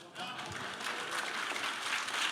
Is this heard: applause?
yes